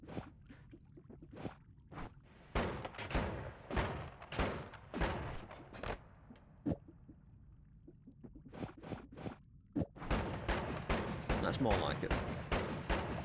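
Shotguns blasting in the video game Noita, a rapid series of sharp, punchy bursts in uneven clusters, then a denser stretch of fire near the end, with a voice speaking briefly between shots.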